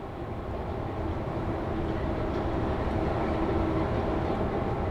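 A subway train in the Subway Sim 2 game rumbles steadily for several seconds, a dense low roar that holds at an even level without speech.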